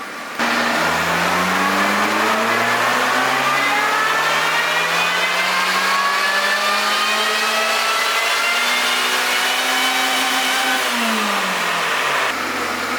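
A small 660cc engine on a dyno revs in one long continuous power pull, pitch climbing steadily for about ten seconds before dropping off, loud and close with no talk.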